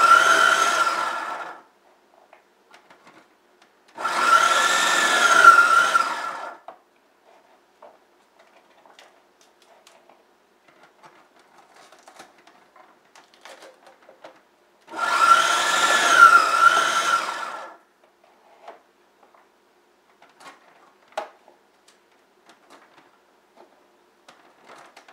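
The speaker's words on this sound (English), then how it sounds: "We're going to send it through the food processor with the grating blade and the chopping" A food processor fitted with grating and chopping blades shreds cauliflower in three separate bursts of a few seconds each. Each whirring grind is loud and close, with quiet pauses and small clicks between.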